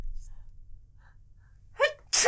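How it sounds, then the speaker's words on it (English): A quick inhale builds into a loud, close sneeze at the end, after near silence. "I'm going to sneeze."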